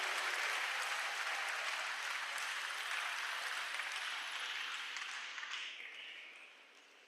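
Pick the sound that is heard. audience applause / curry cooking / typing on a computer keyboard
audience applause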